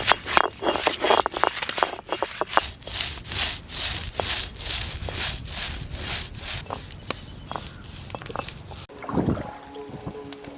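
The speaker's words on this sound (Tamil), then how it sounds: "காரஞ்சாரமான மிளகாயை அம்மியில் அரைக்க போறேன்." Spicy chillies are ground by hand on a traditional stone grinder outdoors in a village kitchen, giving rhythmic rough scraping and rubbing strokes of stone on stone, repeated steadily and close.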